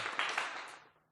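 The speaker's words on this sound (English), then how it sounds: "Let's go ahead and clap it up real quick with a one time" A short burst of hand clapping from a small group, a few quick claps that fade out within about a second, with no voices.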